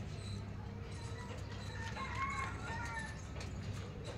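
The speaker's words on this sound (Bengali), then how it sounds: "এই যে আমার কোয়েল পাখিগুলো" King quails in an indoor setup calling with short chirping notes over a steady background hum, fairly close and moderately loud.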